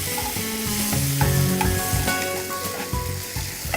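Tomatoes frying in a pan over turmeric-toasted spices for a Karnataka-style potato curry, a loud steady sizzle with a stirring scrape, alone and close.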